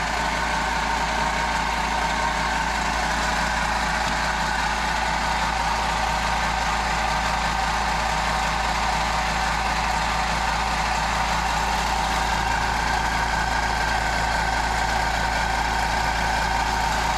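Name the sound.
air compressor running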